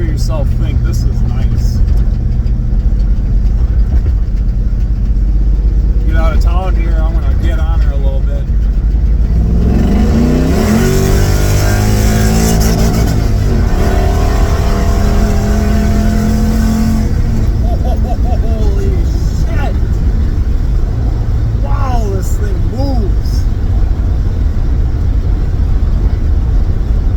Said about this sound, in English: I'm going to take this thing for a test drive and really see how this exhaust sounds